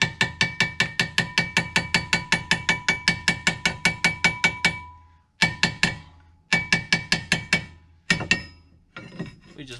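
Screwdriver levering a Mini Cooper S R53 brake caliper around, giving a rapid run of sharp metallic ratcheting clicks, then shorter bursts after pauses, close and clear.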